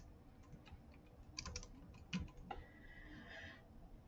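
Typing on a computer keyboard while entering heading text for an accordion component, a quiet run of close, irregular key clicks with brief pauses and a few louder taps.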